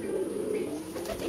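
Pigeons coo in a loft, a soft low warbling murmur that runs steadily through the moment with faint background noise and no voices.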